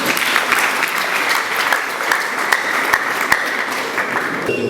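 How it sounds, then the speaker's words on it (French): Students in a classroom break into steady applause, a dense continuous patter of many hands clapping at close range, sustained evenly for several seconds with occasional louder claps. "On peut applaudir."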